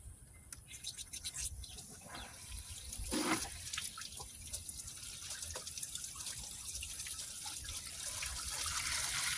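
Dirty water flushes and trickles out of a disconnected heater core hose on a Buick, a steady running stream with drips and splatters, close and moderately loud, with no voices.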